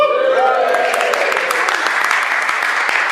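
Wedding guests cheer and applaud in response to the best man's speech, a dense and steady roar of clapping and voices that stays loud throughout.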